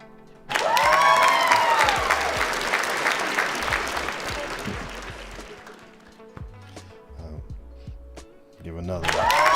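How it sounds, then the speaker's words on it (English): A burst of clapping and cheering swells up suddenly from a crowd, loud at first and then tapering off unevenly, with a voice speaking over the fading applause before another surge rises at the end. "Can you give some sound, some noise, some applause for all the support"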